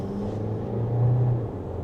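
A 2025 Volkswagen Tiguan SEL R-Line in sport mode pulls away from second gear, its engine giving a steady, moderately loud rumble that swells briefly as it accelerates.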